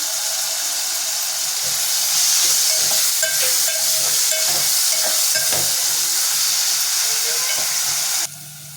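Onions fry in oil with a little ghee in a pan, giving a loud, steady sizzle with scattered stirring clinks and scrapes, no voices, before the sizzle drops away near the end.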